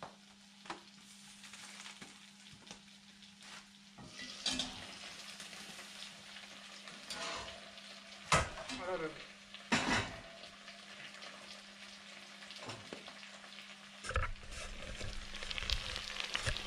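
Potatoes fry in a Dutch oven on a wood stove with a steady soft sizzle and crackle, broken by occasional louder pops and stirring scrapes, close and without speech.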